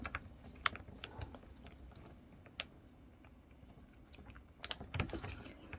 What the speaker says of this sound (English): Yeah, you can hear it click.